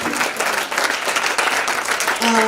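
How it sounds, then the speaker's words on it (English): Standard 8 students at a school meeting applaud in a dense, sustained round of clapping for over two seconds, loud and close. "Why don't you give yourself a clap?"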